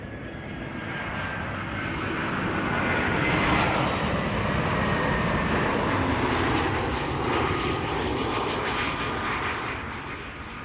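Airliners approaching Amsterdam Schiphol's Kaagbaan runway, a broad, steady jet roar that swells gradually toward the middle and fades slightly, heard from a distance with no voices.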